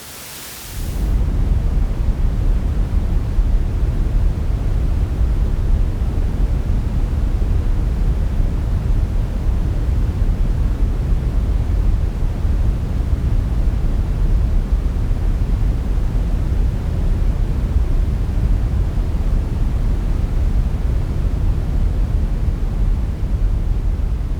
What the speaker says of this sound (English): This is pink noise, with the frequencies above 1 kilohertz filtered.